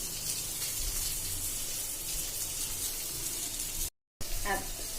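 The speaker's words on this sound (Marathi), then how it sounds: "ब्राऊन होईपर्यंत तळून घ्यायचं" Soybean chunks frying in hot oil until brown give off a continuous, even crackle and hiss at moderate level, broken by a brief dropout of silence near the end.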